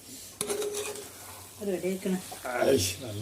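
Nutmeg pickle in a jar being stirred with a spoon, giving soft scraping and clinking in short bursts, with someone speaking over much of it.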